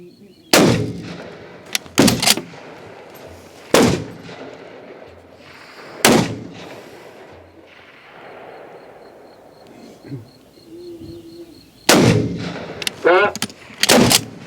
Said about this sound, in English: Kommen wir zum ersten Seriefeuer, 3 Schuss in 1 Minute. Zum Schuss fertig. Feuer frei.